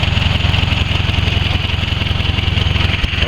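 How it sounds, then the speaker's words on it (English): A 1945 Farmall H tractor engine idles steadily and loudly up close, its even rapid chugging overlaid with a breathy hiss from the open carburetor intake where the breather tube is missing. "Kind of hissing a little bit because I don't have that intake tube going from the breather to the carburetor"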